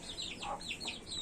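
Farm chickens cluck in a short series of sharp calls, several quick notes with one louder squawk among them, heard at moderate distance over a faint outdoor background.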